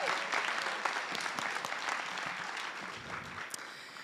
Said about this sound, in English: So give them a huge round of applause.